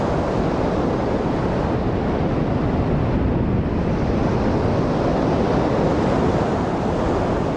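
Heavy ocean surf with wind buffeting the microphone, a continuous loud roar of breaking water lasting several seconds and no voices.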